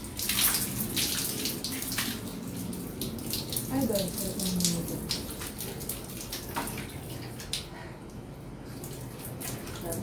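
Water splashing and running as someone bathes, with irregular splashes and tap-like flow at close range, and a person talking briefly over the water.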